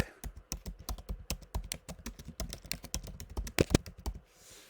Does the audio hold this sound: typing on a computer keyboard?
yes